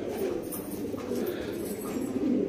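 A pair of Kaldoma pigeons cooing, a soft continuous low warble close by with a faint clink in the background.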